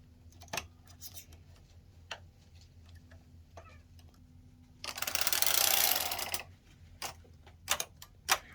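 Needles on a knitting machine pushed up one by one while making a chunky knit tabard, heard as scattered sharp metallic clicks with a longer rasping slide midway, close and alone without talk.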